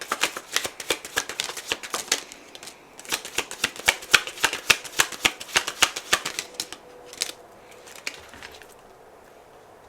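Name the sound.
shuffling message cards for a card reading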